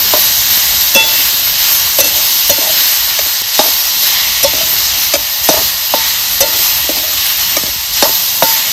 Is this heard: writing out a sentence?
no